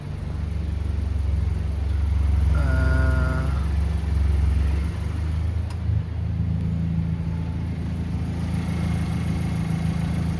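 Engine of a former race car running steadily during a test drive, a loud continuous low rumble with a brief higher whine partway through.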